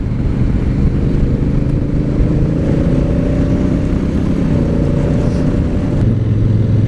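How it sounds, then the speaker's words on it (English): A Honda CRF1000L Africa Twin with its 998cc twin engine drones steadily while riding, a loud continuous low rumble with wind noise and a slight rise in pitch as it pulls. "The 998cc engine, just short of a litre bike, so it is, or for the Americans, a litre bike, does seem to pull very well."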